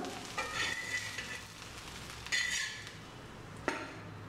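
Tomato dosa cooking on a hot pan gives a soft, steady sizzle with a few brief scraping and clinking sounds from a spatula or ladle. There is no talking.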